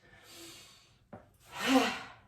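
Qigong breathing during a full body stretch routine, two soft airy breaths, an inhale then a longer, louder exhale, separated by a brief faint tap.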